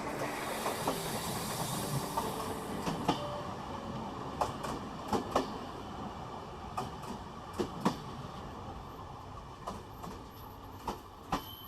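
A train runs steadily along the track, a continuous rumbling hiss of a moving rail carriage with repeated sharp clicks and clacks over the rail joints, fairly loud and alone without speech, as on a ride to Krishnanagar station.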